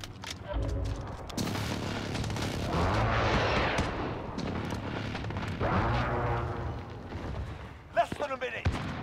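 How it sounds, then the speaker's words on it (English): Precision airstrike explosions in Call of Duty Modern Warfare multiplayer build into heavy booming blasts and rumbling gunfire in two big waves, with shouted voices over the combat and a final burst of sharp shots. "Enemy precision airstrike"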